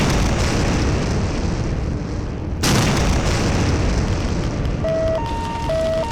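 A loud explosion sound effect for the Chernobyl nuclear reactor blast: a dense, roaring rumble with a sharp burst midway, followed by continued heavy roar and a few faint tonal beeps near the end.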